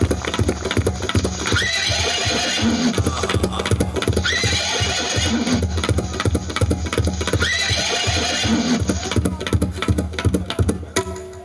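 A horse neigh sound effect played at a devotional Mataji event, repeated whinnies rising over a loud, rhythmic music backdrop, each neigh recurring at roughly three-second intervals.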